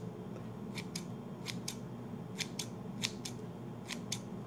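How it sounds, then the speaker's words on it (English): Scissors snip fresh herb leaves in quick pairs of crisp cuts, about eight close snips spaced through a quiet kitchen background. "hold the leaf out and I just snip away"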